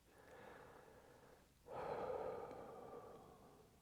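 Quiet close breathing, a soft inhale followed by a fuller, louder exhale like a sigh, alone with no talk.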